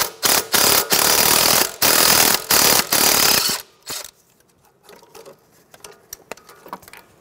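Hand ratchet fitted with a 13 mm socket backing out a bolt on the strut tower of a 2007-2010 Chrysler Sebring, loud rapid clicking in several close bursts, then quieter scattered ticks and light handling noises.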